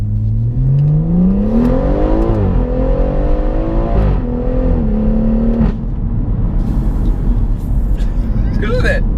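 A 430 bhp Motech-tuned BMW M140i Shadow Edition pulls hard in first gear in Sport Plus, its engine note rising loud and steady, dipping at a shift, then climbing again, with voices over the drive.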